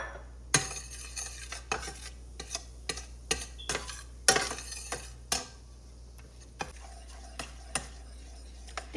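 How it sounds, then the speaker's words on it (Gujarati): Gram flour roasting in oil in a pan while a utensil stirs it, giving a steady run of sharp metallic scrapes and clinks against the pan, close and fairly loud over a low background hum, with no talking. "એ ચણા લોટ આ ઓઇલમાં શેકીશ થોડીક વાર, જ્યાં સુધી કાચો ટેસ્ટ ના જતો રહે ને ત્યાં સુધી."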